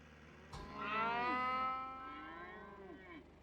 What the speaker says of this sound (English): this is what happens when you hit a cow.